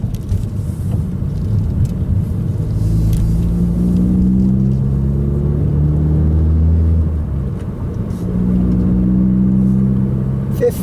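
A manual six-speed car engine revs as the driver shifts up through the gears, giving a loud, close, low rumbling drone that rises and falls in pitch with each shift and keeps going without a break.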